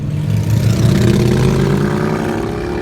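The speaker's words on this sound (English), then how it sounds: "Why do motorcycles have to be so obnoxiously loud?" A loud motorcycle engine revs up nearby, its pitch rising in a sustained, rumbling roar.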